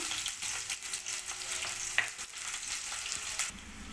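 Onions with ginger-garlic paste frying in oil in a home kitchen for a ridge gourd curry, a steady close crackling sizzle with occasional stirring scrapes, no voices.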